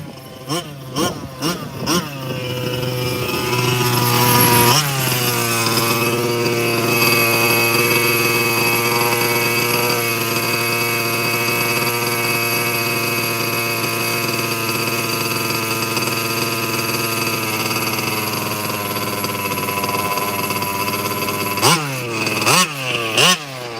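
Team Losi large-scale RC car with a small gas engine, revving in quick bursts, then running steadily at a loud, buzzing high idle for about twenty seconds close by, before more sharp revs at the end.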